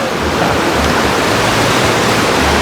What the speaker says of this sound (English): I'm right here by the river. Look how much water's coming through there.